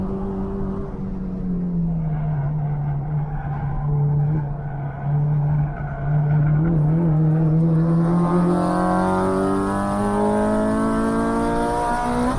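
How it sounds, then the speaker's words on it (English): A race car at Toronto Motorsports Park with its engine droning loudly and tires squealing through a corner, a steady high whine that bends in pitch as the car powers out, close and continuous. "I'm sure you can hear the tires squealing"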